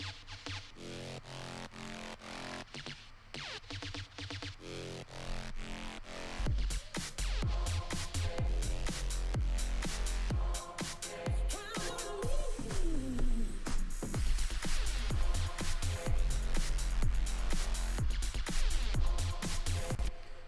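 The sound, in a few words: electronic remix drop processed with Xfer OTT compressor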